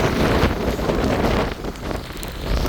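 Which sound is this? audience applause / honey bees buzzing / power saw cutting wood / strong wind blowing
strong wind blowing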